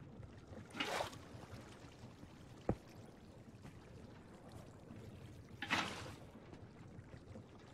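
Water placed in Stoneblock 3 gives two brief splashing whooshes several seconds apart, faint and soft, with a single sharp click between them over a low, quiet background.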